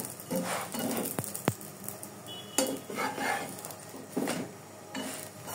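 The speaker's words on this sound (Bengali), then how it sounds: "তাই আমি ঘি দিয়ে ভেজে দিচ্ছি। এভাবে ঘুরে ঘুরে ভাজতে হবে।" Frying in ghee in a pan while being stirred round and round, soft sizzling broken by clinks and scrapes of a metal utensil against the pan, fairly quiet and with no talking.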